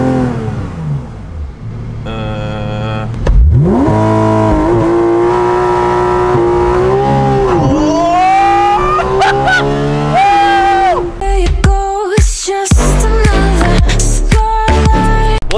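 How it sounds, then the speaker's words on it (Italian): A Porsche GT3 RS engine revs loudly during a launch control run, its pitch climbing and holding in sustained rising sweeps, followed by sharp bursts and crackles as it shifts and pulls away, close and dominant throughout. "Porsche GT3 RS."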